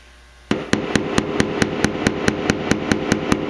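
A hammer taps a dent in a 2013 Chrysler Town and Country body panel in a steady, quick rhythm, about a dozen sharp, ringing strikes close by after a moment of quiet.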